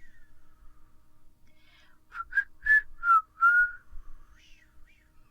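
A few short, wavering whistled notes, thin and somewhat faltering, rising and falling in a brief uneven run.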